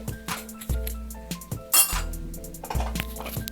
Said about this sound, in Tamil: இப்போ குக்கரை மூடிடலாம்.